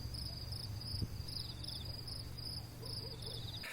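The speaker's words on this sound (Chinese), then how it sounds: "太阳落下去，能够听到这儿的虫鸣鸟叫。" Insects chirp steadily in layered, repeating pulses at dusk beside a lake in Canada, a constant moderate chorus with a low background hum and no talk.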